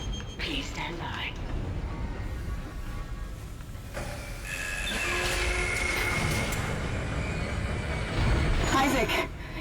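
Tram car in the Dead Space video game, damaged, rumbling and clattering along with metallic squeals and tonal whines, under whispered and spoken voices.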